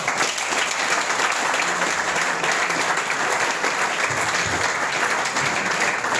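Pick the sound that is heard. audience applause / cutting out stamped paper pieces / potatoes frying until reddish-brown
audience applause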